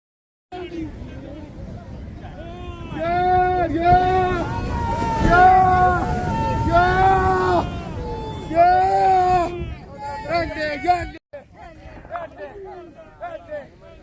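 Fishermen on a beach at Shankhumukham chant together in a loud, rhythmic call-and-response while hauling a Kambavala fishing net, their voices rising and falling in repeated phrases before the chant suddenly stops.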